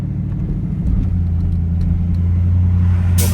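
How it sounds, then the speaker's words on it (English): A city bus passes on a near-empty Hollywood street: a steady, loud low engine rumble close by that swells slightly toward the end, with no voices. "There goes that 212 bus."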